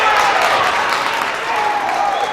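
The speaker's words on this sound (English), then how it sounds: "Crowd's coming alive for that." A crowd in the gym at a high school boys basketball game roars with a sustained wash of cheering and clapping, with commentary heard over it.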